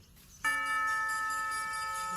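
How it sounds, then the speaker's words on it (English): A single bell strike from the Twilight Tower in Minecraft rings out sharply after a short quiet lead-in, then sustains a bright, steady metallic tone that barely fades. "It sounds like the bell from the Twilight Tower begins to chime."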